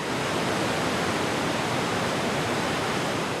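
Tahquamenon Falls roars as a constant, dense rush of falling water, loud and unbroken throughout with no voices.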